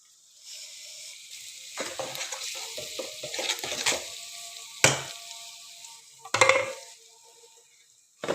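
Hot oil tempering for kadhi sizzles and crackles as spices hit the pan, with stirring and scraping of a spoon against the pot and a few sharp bursts of frying near the end.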